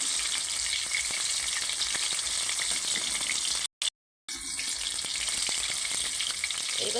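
Chicken satay fries in a pan with a dense, continuous sizzle close by, broken by a brief silent gap partway through.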